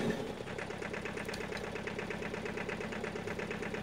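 The engine of a Bucher TRL 2600 vehicle in Farming Simulator 22 runs at a steady idle close by, a rhythmic mid-pitched chugging and knocking pulse that holds evenly, with no talking.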